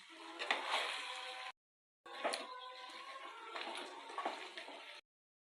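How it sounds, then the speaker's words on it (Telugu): Two glasses of water are poured into a kadhai of onions, tomatoes, green chillies and curry leaves for a head curry, heard as two close, splashing pours separated by a short pause. "2 గ్లాసెస్ వాటర్ పోసాను"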